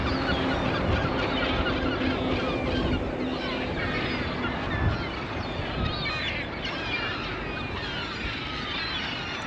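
Geese or similar waterfowl honk and call busily at Petone Beach in New Zealand, a dense, continuous chorus with steady wind or surf noise beneath it.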